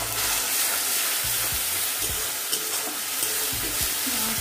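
Tomatoes and ginger-garlic paste frying in a pan make a loud, continuous sizzle, with repeated low knocks of stirring through it and no talk.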